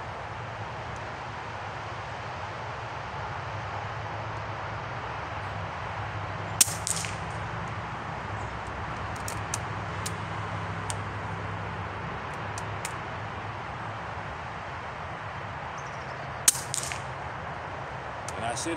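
Weihrauch HW 110 .22 air rifle fired outdoors: two sharp, fairly faint shots several seconds apart, with small clicks between them, over steady background hiss.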